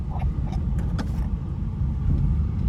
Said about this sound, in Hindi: गियर तीसरा करता हूँ, रेस देता हूँ, पैडल पूरा दबा दिया भाई, गाड़ी आगे नहीं बढ़ रही।